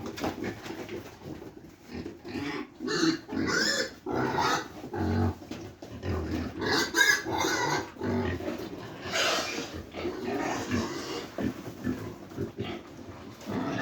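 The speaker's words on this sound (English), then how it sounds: "So we'll be feeding this with our grower pigs at this moment." Grower pigs feeding at a trough, with a continuous run of grunts, snuffles and squeals close by, loud and busy throughout, no talk.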